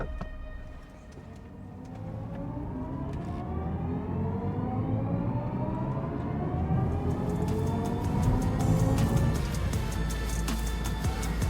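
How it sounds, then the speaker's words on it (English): Futuristic artificial drive sound of a BMW i4 eDrive40 M Sport electric car, composed by Hans Zimmer, a layered synthetic hum with tones that rise steadily in pitch as the car speeds up, growing fuller and louder toward the end. "the artificial sound this car makes is so cool, it comes straight out of sci-fi and is the result of BMW collaborating with Oscar-winning composer Hans Zimmer"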